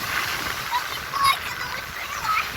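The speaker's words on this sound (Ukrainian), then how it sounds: "Сьогодні море дуже-дуже активне дуже сильно хвилюється." Rough, active sea in Sanzhiyka with waves splashing and washing at the shore, a steady broadband wash with a few brighter surges, heard close under a voice speaking nearby.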